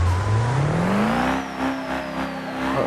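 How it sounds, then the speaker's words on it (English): A truck's wheels spin while it is stuck in the driving game BeamNG.drive, the engine revving steadily higher in pitch and then holding a strained, loud drone, with a faint squealing edge from the tires. "Uh-oh, the wheels are stuck."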